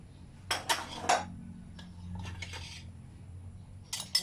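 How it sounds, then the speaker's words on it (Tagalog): Plates being washed clink and clatter against one another and against cutlery in a few quick bursts with quieter gaps between, close by and fairly soft. "Hugas ko og plato."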